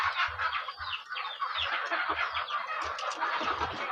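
Several KUB free-range village hens cluck and chatter continuously nearby, with soft low thumps of movement underneath.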